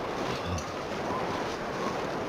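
Steady, broadband wind howls through a snowy valley in The Long Dark survival game, a continuous rushing roar with gentle swells, no voices over it.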